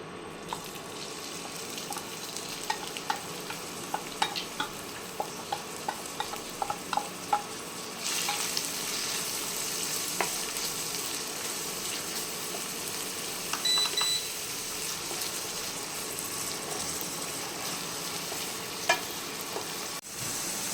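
Onion sizzling in hot oil for dry Manchurian, a faint, continuous frying hiss that grows louder partway through, with scattered taps of stirring and a brief beep.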